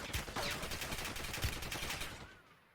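Gunfire in the mobile shooter game Warzone Mobile on Android or iOS: a rapid, dense run of shots at steady loud level for over two seconds before it thins out and fades.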